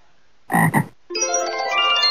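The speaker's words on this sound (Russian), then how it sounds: "А оказывается нет, это лягушка." A cartoon frog in a children's educational game lets out a loud, close double croak, followed after a short pause by a brighter, tonal jingle that plays on steadily.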